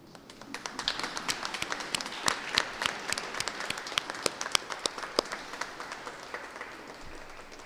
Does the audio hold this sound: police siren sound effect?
no